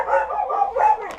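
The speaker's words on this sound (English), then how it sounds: "decided to go on a bark fest upstairs" A dog barks upstairs indoors in a quick run of sharp, fairly close barks and yips with no voices over them.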